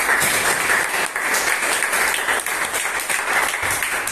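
Students applaud together in a classroom, with a steady, full burst of close clapping that lasts several seconds.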